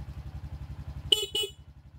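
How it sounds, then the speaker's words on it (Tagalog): A Raider J FI 115 motorcycle's horn gives two short honks close by, sounding over the steady putter of the idling single-cylinder engine. "tapos busina"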